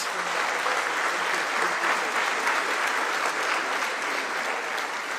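Warm round of applause for the President at an international conference on heritage authenticity in Africa, a sustained, even crowd clapping that fills the room without a break.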